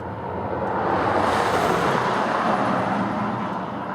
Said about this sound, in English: A lot of traffic today on this road.